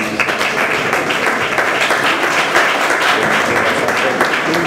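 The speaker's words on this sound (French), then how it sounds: "Sous vos applaudissements, s'il vous plaît." Sustained applause from the guests at a French civil wedding ceremony with a military theme, a dense, steady wash of clapping that stays loud and even throughout with a faint murmur of voices mixed in.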